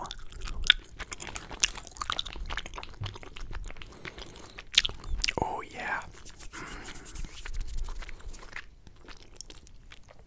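Close, soft chewing of strawberry gummy candy with wet smacks and squishy crunches, interrupted by a few sharp clicks and a brief whispered remark.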